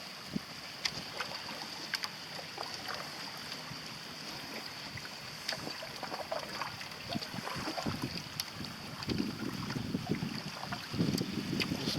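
A boat sails in a light southwest breeze, with steady wind buffeting and water washing against the hull, plus scattered creaks and taps of gear, building slightly louder toward the end.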